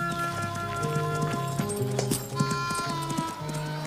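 A horse gallops away in a Lucky Luke western TV series scene, hooves clip-clopping in quick rhythm amid a busy music score, the hoofbeats carrying over layered orchestral tones.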